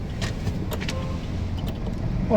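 A car engine runs steadily during a driving lesson, a constant low rumble heard from inside the cabin, with a few faint clicks and rattles on top.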